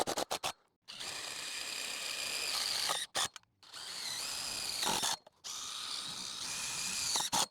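A power drill drives bolts through a Starlink pole mount into a roof, running in three long whirring bursts with short pauses between, close and loud with a ratcheting edge.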